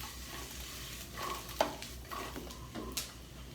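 Apples stewing in a pan are stirred around with soft scraping and occasional utensil knocks over a low, steady sizzle, close up and fairly quiet, with no talking.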